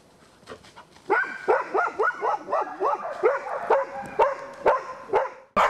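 A search dog barks repeatedly during a training exercise, in a rapid, loud, close run of sharp barks that continues for several seconds.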